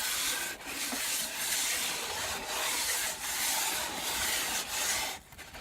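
Dremel 4000 rotary tool sanding a repair on cracked wood, giving a steady abrasive rasping hiss that runs continuously with brief dips and pauses, close up and fairly loud, with no talking.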